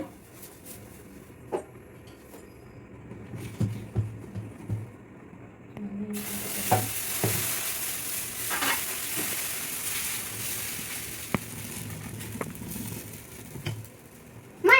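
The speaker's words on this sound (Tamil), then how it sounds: "தோசை ஊற்றிடலாமா? ஊற்றிடலாம்." Dosa batter poured onto a hot pan for a ghee dosa, starting a steady sizzle that rises sharply partway through and continues with soft scraping and clatter, close and moderately loud, with no talking.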